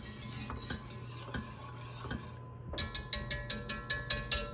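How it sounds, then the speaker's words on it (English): A spoon scrapes and knocks around a pot of chicken or turkey pot pie filling, soft stirring at first, then a run of sharper rhythmic clinks against the pot's side, near and fairly quiet. "we're just gonna stir this up a little bit"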